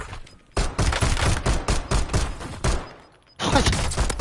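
Rapid automatic gunfire from a 45-round gun in a multiplayer shooter, two long sustained bursts of dense cracking shots separated by a short pause, loud and close, without speech.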